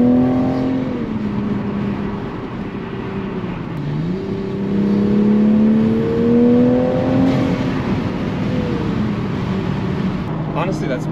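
A 2021 Toyota Supra with a JB4 tune, stock downpipe and stock exhaust accelerating, heard from inside as a steady engine drone climbing in pitch through the gears, loud and continuous, with voices talking over it.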